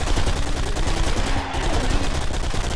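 Bursts of loud gunfire from the shooter game BlackSite crackle back to back in a short, dense volley, close and harsh with a brief dip midway.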